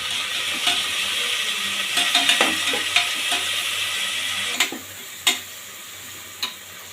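Onions and tomatoes sautéing with salt in a pan for a soya dish, a steady loud sizzle with occasional scraping stirs and sharp clicks of a spoon against the pan.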